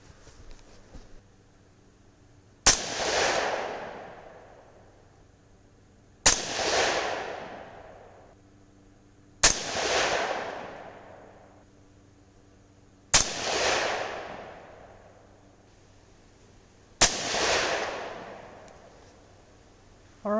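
.308 Winchester rifle fired with 165-grain Hornady GMX ammunition and an AR-Comp muzzle brake: five loud, sharp shots spaced about three to four seconds apart, each ringing off in a long echo.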